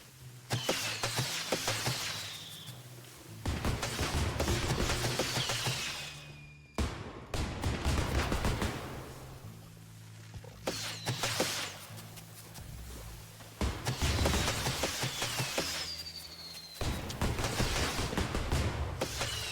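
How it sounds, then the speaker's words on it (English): Fireworks going off in the Grounded video game, with repeated crackling bursts and whistling streaks rising over low rumbles, arriving in several loud volleys separated by brief pauses. "I see you are fireworking."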